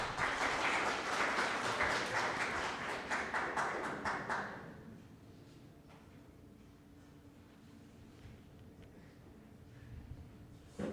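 Loud, dense applause from a seminar audience at a Bolivian university event fills the first few seconds, then cuts away to a quiet room with faint scattered taps and low background noise.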